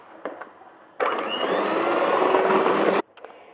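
An electric mixer runs steadily through yogurt cake batter for about two seconds, a loud continuous whir that stops abruptly, with quieter kitchen sounds before and after.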